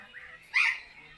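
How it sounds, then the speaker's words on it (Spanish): A single harsh squawk from a yellow-headed parrot, close and fairly loud, preceded by a softer brief call against quiet background. "Los loros, cabeza amarilla."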